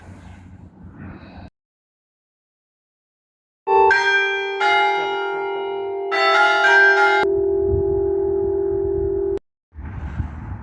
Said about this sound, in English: my nerves are jangling after that bell, that was so loud